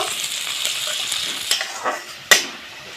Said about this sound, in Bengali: এখন আমি তেলে দিয়ে দিব পেঁয়াজ কুচি থেতো করা রসুন দিয়ে আমি লাল করে ভেজে নিব